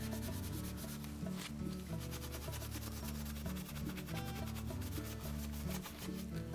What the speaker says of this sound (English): with a piece of Scotch pad, we'll just remove any of the soap and crud buildup on it